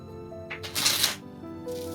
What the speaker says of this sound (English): That is some serious shuffling going on here.